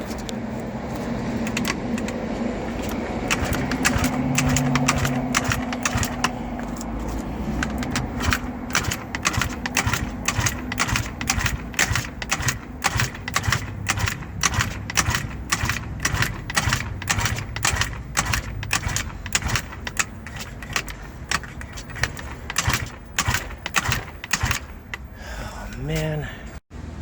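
A kick-started Eaton Beamer Matrix 2 engine, primed with starter fluid, gives a long run of sharp, rapid mechanical clatter and knocking, loud and close, with a low rumble underneath and a brief tonal whine near the end.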